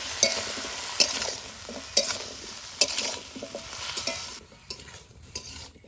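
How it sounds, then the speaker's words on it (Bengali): Banana stem stirred in a hot pan with salt and turmeric: a steady sizzle broken by sharp scraping strokes about once a second, fading toward the end, with no voices. "দিয়ে দিব পরিমাণ মতো নুন আর পরিমাণ মতন হলুদ গুঁড়া ভালো করে নাড়ি চাড়ি নিব"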